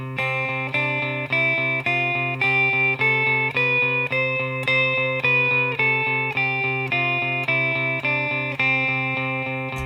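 A clean electric guitar loop in C Ionian mode repeats steady, bright chord patterns with a gentle driving rhythm, playing alone at moderate volume for the whole stretch.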